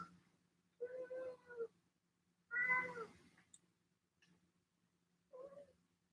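House cat meowing nearby in a quiet room during a Thai yoga massage session, three separate drawn-out meows with soft pauses between them.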